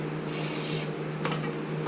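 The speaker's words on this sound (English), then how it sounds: "Spray it on the outside here, just a little bit on the outside." Cleaner spraying onto a Zebco 202 fishing reel, a short hissing spray burst near the start, then softer rubbing and scraping sounds over a steady low hum, close and quiet.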